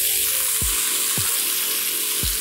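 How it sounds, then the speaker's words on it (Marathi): Chopped onion and tomatoes sautéing in a hot pan, a constant close sizzle broken by three sharp spatula taps against the pan. "मी इथे 2 मध्यम आकाराचे टोमॅटो घेतलेत बारीक चिरलेले, आणि आता व्यवस्थित हे आपण परतून घेऊया"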